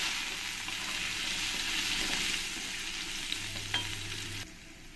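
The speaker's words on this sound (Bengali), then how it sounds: "আলুটাকে আমি ভালো করে লাল লাল করে ভেজে নিয়েছি" Potatoes frying in a pan with salt and turmeric give a steady, close, bright sizzle with a few light stirring clicks, softening near the end.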